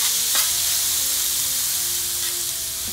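Small cubes of beef steak fry for fajitas in a hot pan, giving a steady, loud, close sizzle that holds evenly through the whole stretch with no one speaking.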